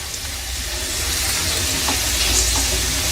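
Cashews, raisins and charoli nuts fry in a pan over a low flame for sheer khurma, giving a steady, even sizzle that swells slightly toward the end, close and continuous with no voices.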